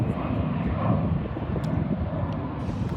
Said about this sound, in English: And the Southwest Airlines about to take off.